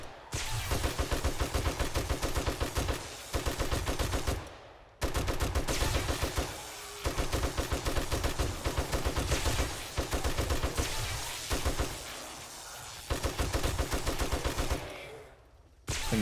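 Rapid automatic turret fire rattles in long sustained bursts during a zombie base defense in the video game 7 Days to Die, loud and dense, broken by a few brief pauses.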